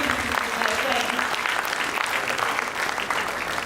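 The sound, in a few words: round of applause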